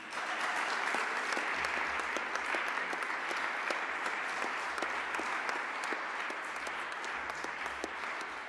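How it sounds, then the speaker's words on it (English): Sustained applause from a graduation ceremony audience at FHWien's 2021 Executive Management sponsion, a dense, steady wash of many hands clapping at an even level throughout. "Again, a big applause for Daniela Lindner."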